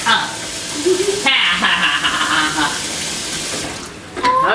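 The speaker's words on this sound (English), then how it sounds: "You need to rinse off those Brussels sprouts?" A kitchen faucet runs steadily to rinse Brussels sprouts in a sink, a loud continuous water stream with splashing, while people talk over it.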